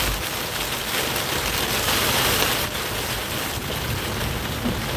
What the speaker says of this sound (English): looks like it's very wet sleet